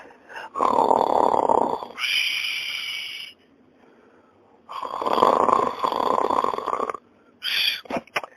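Loud, close snoring from a sleeping man, two long rasping breaths, each a harsh inhale followed by a gurgling exhale, separated by a quiet pause and ending with a shorter snort.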